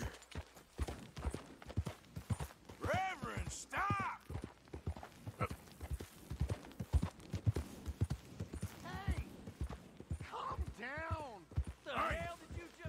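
A horse's hooves clip-clop at a steady walking pace in Red Dead Redemption 2, close and rhythmic, with voices talking over the footfalls and a few snorts from the horse.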